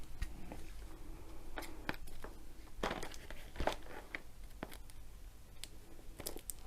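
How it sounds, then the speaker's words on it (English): Clear cellophane wrap being peeled and pulled off a diamond painting kit box: close, quiet crinkling and crackling with irregular sharp rustles and small tearing snaps, no voices. "So you get the clear cellophane off it."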